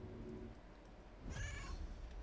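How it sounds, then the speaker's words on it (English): A summoned cat meows once in Baldur's Gate 3, a short clear call rising over low game ambience. "Can you meow?"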